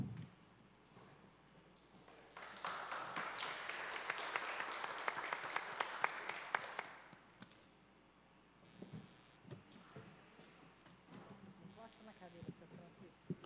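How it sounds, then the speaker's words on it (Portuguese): Applause for the national flag during a seniors' council session, a broad round of clapping from a seated audience that swells for about five seconds and fades, followed by scattered claps, shuffling and murmuring. "Peço a todos uma salva de palmas ao Pavilhão Nacional."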